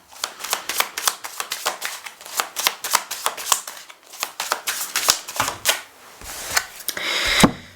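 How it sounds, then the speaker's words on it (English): A deck of tarot cards being shuffled close by, with rapid crisp riffling and slapping bursts in an irregular rhythm, followed by a brief louder flutter near the end. "that was just bad shuffling on my end."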